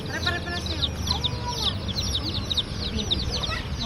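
Several baby chickens cluck busily close by in a rapid, overlapping chatter at a market in the Philippines, with faint background voices.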